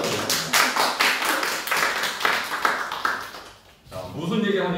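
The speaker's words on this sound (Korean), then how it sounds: "박수로 환영하겠습니다" An audience claps in welcome ahead of a church teaching talk, giving a run of rhythmic, fairly close handclaps that fade briefly near the end before a voice begins speaking.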